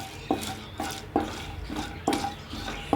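Peanuts and chana dal fry lightly in oil in a pan while a spoon stirs them, making regular scraping clinks against the metal about twice a second over a faint sizzle.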